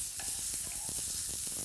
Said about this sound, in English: once the mushrooms and onions are sautéed